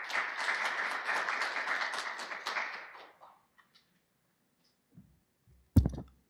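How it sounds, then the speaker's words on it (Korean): A conference audience at a VR/AR standardization event claps for about three seconds, fading out into near silence, followed by a couple of faint bumps and a short loud thud. "큰 박수로 모시도록 하겠습니다."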